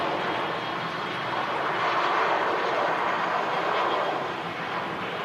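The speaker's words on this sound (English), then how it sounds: "Another aircraft lining up on 23 right, the runway in use today." Airliner noise at Manchester Airport as an aircraft lines up on runway 23 right, a steady broad engine roar held at fairly constant loudness throughout, with no talk over it.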